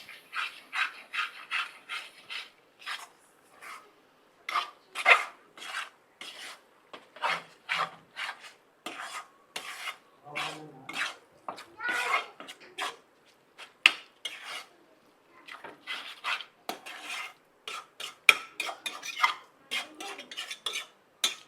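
A spoon scrapes steadily around a pot of sorrel-leaf curry with garlic, making a long run of close, rhythmic rasping strokes with no talking.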